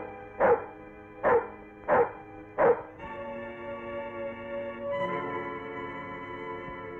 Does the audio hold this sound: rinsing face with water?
no